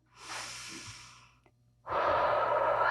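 A slow, audible breath while holding a revolved half moon yoga pose: a long, airy exhale fades out, followed after a brief pause by a full, louder inhale. The breath is close to the microphone, with no talking.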